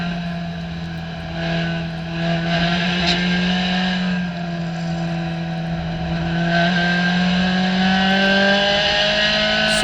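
Race cars at Hallett Motor Racing Circuit, including a COMMA SRF3, their engines whining loudly with rising and falling pitch as they pass and accelerate, a continuous close engine drone with no talking.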